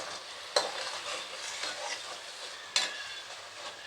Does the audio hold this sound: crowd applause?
no